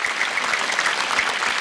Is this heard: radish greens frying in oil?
no